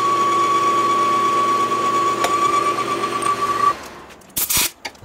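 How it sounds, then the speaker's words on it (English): A metal lathe cuts a shotgun choke's internal bore to 3 inches deep, a steady close mechanical hum with a sustained high tone that stops, followed by a few sharp clanks. "Like I said, we're cutting to 3 inches deep now."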